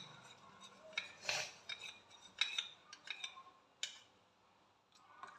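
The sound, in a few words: spoon stirring cornflour and Boost pudding mixture in pan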